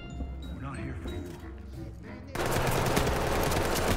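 In the tactical shooter Ready or Not, a sudden loud burst of automatic gunfire breaks in after quieter game sounds and chatter, then keeps going as a dense, sustained volley.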